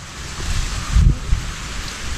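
Rain falls outdoors on a day of strong wind, a steady hiss of drops with a low rumbling gust swelling briefly in the middle.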